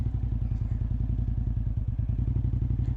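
A Suzuki TL1000R V-twin motorcycle engine, hot and idling after starting, gives a steady, loud, low lumpy thump with an even pulsing rhythm, close by and with no talk.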